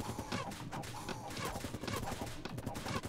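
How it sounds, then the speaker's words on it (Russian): Dense, rapid gunfire crackles nonstop from a base under attack in the video game Camp Defense, a busy volley of overlapping shots and impacts at moderate loudness. "А кто там так стреляет, что у нас,"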